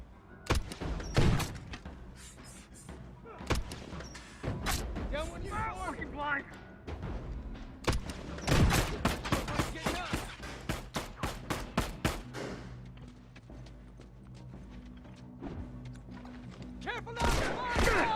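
A launcher weapon fires in The Last of Us: repeated sharp explosive bursts and thuds in clusters, loud and close, mixed with game sounds and a voice talking over much of it.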